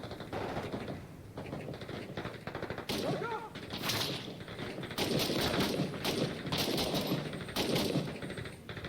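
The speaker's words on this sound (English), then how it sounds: "feels like I'm there with the gunfire and all that, and the rifle fire" Dense bursts of rifle and automatic gunfire in the video game Six Days in Fallujah, rapid and overlapping, growing louder and more continuous in the second half, with a brief voice underneath.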